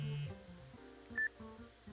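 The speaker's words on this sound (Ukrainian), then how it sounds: "Так, мені дзвонить телефон." A phone rings inside the store-clerk video game I am part-time worker, heard as quiet electronic beeps and short melodic tones over a soft musical background.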